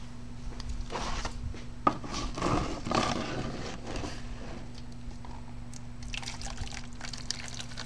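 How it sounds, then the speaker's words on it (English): Fresh hot water is poured into a tray for PCB etching, giving an uneven splashing and trickling that starts and stops in short bursts over a steady background hum, with a small knock partway through. "put fresh hot water in"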